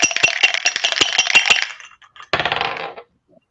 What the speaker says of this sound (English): As if I need to roll a dice.